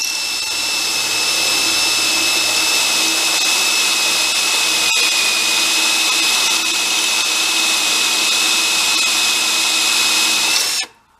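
A power drill runs continuously at high speed, boring through a pin hole during a BobCat UTV transmission rebuild, loud and close with a steady whine, then cuts off abruptly at the end.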